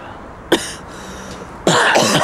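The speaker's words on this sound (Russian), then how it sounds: "снимаю, как ты кашляешь" A person gives two harsh coughs, a single short one followed a second later by a longer, heavier double cough, close and loud with no talk over them.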